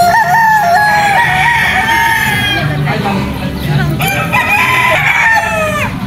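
Gamefarm roosters crowing loudly and close, several overlapping cock-a-doodle-doo calls across a few seconds, with clucking and a voice speaking underneath.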